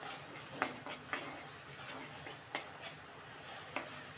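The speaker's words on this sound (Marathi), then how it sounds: "व्यवस्थित मिक्स करत आहे मी." A ground spice paste fries in hot oil in a kadhai for a traditional Maharashtrian Bhogi vegetable dish, with a soft steady sizzle and a few sharp scrapes and clinks of a spoon stirring against the pan.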